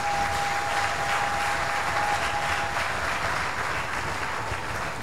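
A church congregation at a Sunday service breaks into sustained, dense applause that fills the room evenly and steadily for several seconds, with no talking over it.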